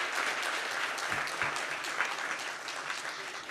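Sustained applause from an audience at a journalists' association anniversary symposium and lecture, dense and steady clapping that fills the whole moment, loud and continuous with no voices standing out.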